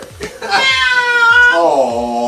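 A cat being bathed and dunked in water lets out long, loud, drawn-out yowls, close and distressed, with a voice murmuring briefly at the start.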